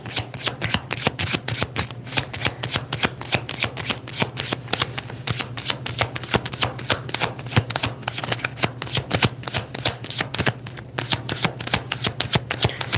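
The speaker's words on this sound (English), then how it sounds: "I gotta shuffle, shuffle, shuffle." Playing cards being shuffled continuously, a dense rapid riffling and flicking that carries on steadily for over ten seconds, close up.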